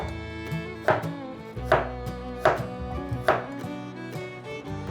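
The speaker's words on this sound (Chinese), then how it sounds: "把姜切片，" A kitchen knife slicing fresh ginger on a cutting board: four evenly spaced, crisp chops ring out near and clear over a soft tonal background.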